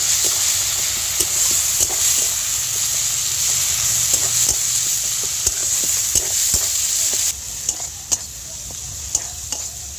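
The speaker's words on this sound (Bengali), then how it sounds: "এই মশলাটা ভালো করে কষিয়ে নেব।" Coriander, cumin and Kashmiri chilli powder fry in hot oil with a steady close sizzle, stirred in a pan with scattered scrapes and taps of the spoon; the sizzle drops slightly toward the end.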